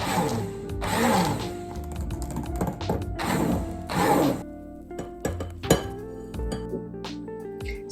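A utensil stirs a thickening homemade moisturiser mixture in a container, giving repeated clinks and scrapes against the sides in bursts, followed by a few sharper taps and quieter rattles.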